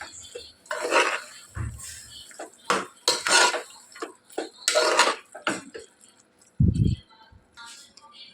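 Washed minced meat (keema) is mixed in a pan with a spoon, making irregular bursts of scraping, clattering and knocking close by, separated by quiet gaps, with one low thump near the end.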